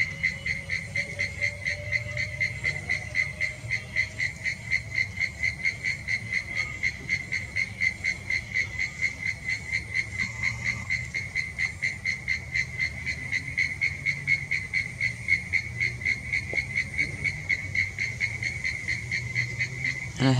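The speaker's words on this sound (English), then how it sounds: "And I have a very loud cricket." A loud cricket chirping at night, a steady high pulsing trill that runs without pause for the whole stretch, close and dominant over a faint low background hum.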